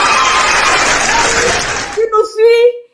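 An audience applauds for about two seconds in a dense, steady wash of clapping that fades out, followed by a voice speaking close by.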